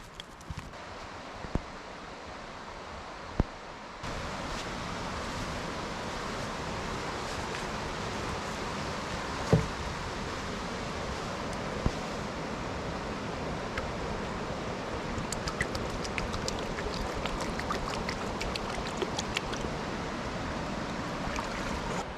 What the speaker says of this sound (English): The first order of business is to refill our water supplies from the glacier-fed river we can hear running through the